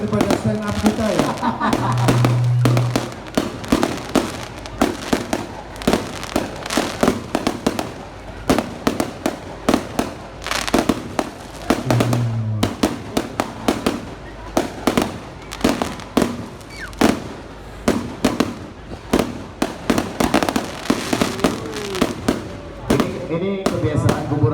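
A fireworks display at the Kubu Raya anniversary celebration crackles and booms in a rapid, irregular barrage of bursts, with people talking between and over the explosions.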